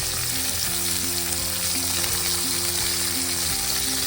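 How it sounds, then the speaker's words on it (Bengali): Steady crackling sizzle of pumpkin pieces frying in hot oil, continuous and close, with faint tonal hum underneath and no talking. "আবার আমি 1 পিস এরকম ভেজে নিলাম"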